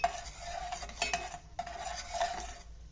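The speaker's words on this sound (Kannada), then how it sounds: "ಹಾಕಿ ಇದನ್ನು ಚೆನ್ನಾಗಿ ಈ ರೀತಿ ಮಿಕ್ಸ್ ಮಾಡ್ಕೊಳ್ಳೋಣ." A spoon stirs crushed herbs into a home-remedy mixture heating in a pot, with soft scraping and clinking strokes over a faint sizzle, close and quiet.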